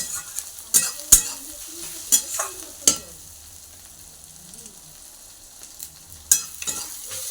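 Eggplant in fish oil, stirred in a pan: a faint low sizzle broken by sharp, intermittent clinks and scrapes of a utensil against the pan, spaced irregularly, with no talking.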